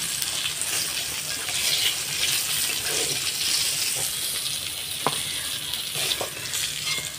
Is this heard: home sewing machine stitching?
no